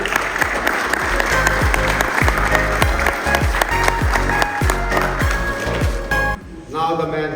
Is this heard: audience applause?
yes